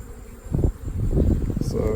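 Honey bees buzz steadily in a hive box fitted with crooked comb, a dense continuous drone with a few louder swells, sitting near and under a brief bit of speech.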